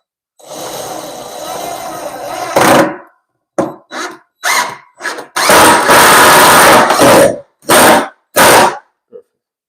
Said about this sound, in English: now we're gonna get another 2 screws, and I'm gonna drive 1 screw